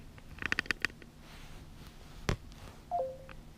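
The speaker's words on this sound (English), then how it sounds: "you will hear a sound when it connects" A Beats Pill portable speaker chimes as it pairs over NFC with a phone set on top: a quick run of tapping electronic beeps, a single sharp click, then a short two-tone descending chime, quiet and close.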